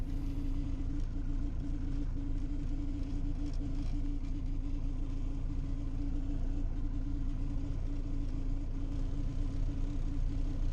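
A Miles Falcon light aircraft engine held at run-up power around 1800 RPM, giving a constant droning hum with a steady low-pitched tone, continuous and even for the whole stretch.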